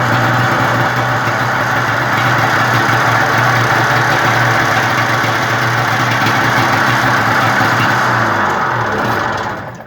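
An unrestored 1972 Harley-Davidson with a rubber track and electric start idles loudly and steadily up close for nearly ten seconds before the sound cuts off.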